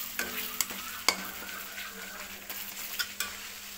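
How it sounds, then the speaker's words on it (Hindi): Spices fried in oil for a jackfruit curry, with a soft sizzle under repeated sharp clinks and scrapes of a spoon stirring against the pan, fairly quiet and close. "मसाले को तब तक भूनेंगे जब तक वो तेल नहीं छोड़ता"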